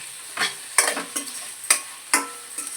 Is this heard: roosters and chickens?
no